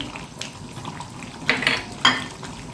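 A spoon scrapes and clinks against a pot while sugar is stirred into chicken korma, with a few sharp metallic knocks over a soft background.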